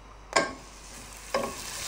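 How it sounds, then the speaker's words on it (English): French toast hits a hot frying pan with two short bursts of crackling sizzle, each fading into a quiet, steady frying hiss, soft and close with no talking. "Well, you can hear that sizzle."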